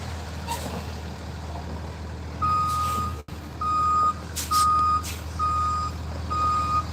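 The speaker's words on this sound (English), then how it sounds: "Yeah, the tow truck's already here." A tow truck reverses at the scene of an overturned car in Brighton, its steady electronic beeps repeating in evenly spaced bursts over a low diesel engine rumble, with a brief air brake hiss partway through.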